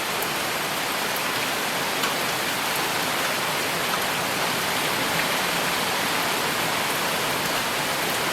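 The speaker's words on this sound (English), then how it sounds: "It's going to come a pretty good rain." Heavy rain pours down steadily during an evening thunderstorm over a garden with a small building, a dense, constant hiss with no breaks or voices.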